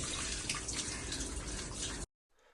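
Water rushes from a fully opened valve in a plant room, a loud, steady hissing flow that cuts off abruptly near the end, leaving a brief faint trickle.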